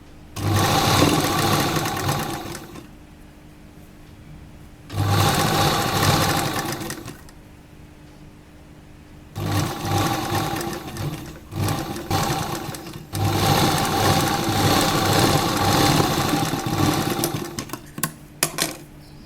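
A sewing machine stitches an A-line inner-collar jacket dress in four loud, close bursts of steady whirring, separated by short pauses, with no talking.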